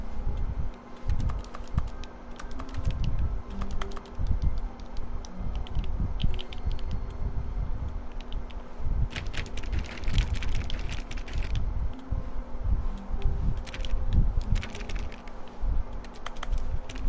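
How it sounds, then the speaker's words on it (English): Keyboard-typing clicks play as objects are interacted with in The Stanley Parable, with clustered bursts of tapping over a steady low background hum and no speech. "Why does everything sound like a keyboard?"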